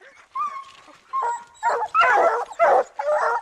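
Several bear-hunting hounds bark, yip and whine excitedly at a bear in quick bursts, loud and close, overlapping each other.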